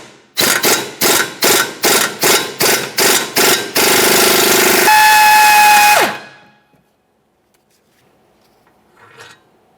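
A wrench spins a seized rear upper control arm mounting bolt on a 2015-2019 Subaru Outback, giving about nine loud rapid mechanical bursts followed by a sustained whirring run and a falling whine, then near silence.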